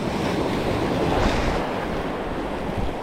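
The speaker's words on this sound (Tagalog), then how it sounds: "Sabayan natin yung alon." Ocean surf rolls against a steep rocky shoreline while shore fishing, a broad continuous wash of breaking waves mixed with wind buffeting the microphone, loud and close with no voices.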